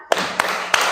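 Three sharp hand claps, evenly spaced and close by, in a classroom lesson about forces, with a steady room hum between them.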